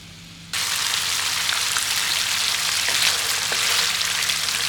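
Coconut cream sizzles loudly while being stir-fried for a Thai chicken curry, a dense close hiss starting abruptly and holding steady with occasional soft stirring knocks.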